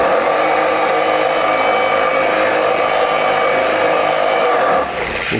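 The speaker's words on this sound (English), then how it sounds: "Turn the polisher up to speed 3." An Optimum car polisher spins at speed 3 with a damp waffle pad, a steady loud whirring drone that holds throughout and then drops off slightly at the end, with no talking.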